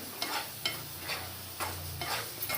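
Besan flour for laddoo stirred in a pan over low gas, giving a soft steady scraping with a faint sizzle and periodic stroke accents, close and alone with no talk.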